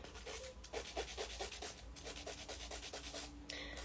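A nail file rasping across fingernails at home, faint rhythmic strokes repeating about twice a second, quiet and close with no talk.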